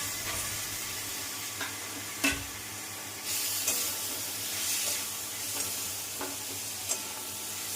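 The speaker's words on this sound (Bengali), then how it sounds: "টমেটোটাকে না তেলের মধ্যে একটু ভালোভাবে ভেজে নেবেন" Chopped tomatoes and onions frying in oil for chana masala, a close hissing sizzle broken by scraping stirs and a few sharper knocks, with a brief louder burst of spitting partway through.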